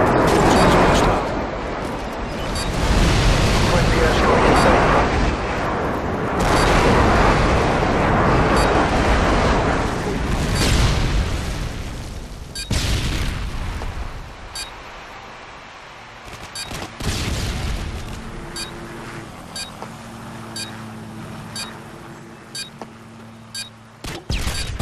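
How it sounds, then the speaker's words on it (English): Friendly airstrike explosions roll through Modern Warfare 2 as a heavy, continuous barrage of booms and rumbling blasts for about twelve seconds. Sharper, scattered gunshots and clatter follow as the bombardment fades. "Friendly airstrike inbound."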